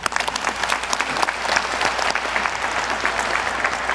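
Sustained audience applause fills a formal defence strategy committee meeting, dense clapping from many hands held steady and fairly loud for the whole stretch, with no talk over it.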